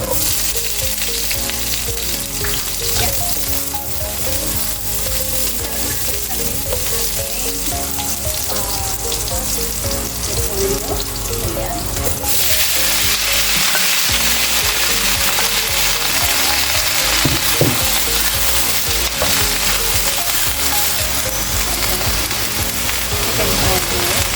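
Onion frying in a pan for pancit bihon with corned beef and bacon, a loud continuous sizzle with stirring scrapes running throughout, growing brighter and more intense partway through, close up and with no talking.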